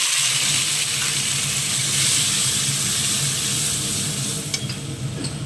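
A ground paste of onion, ginger, garlic and cumin fries steadily in a pan, with a continuous close sizzle and occasional stirring scrapes throughout, no voices.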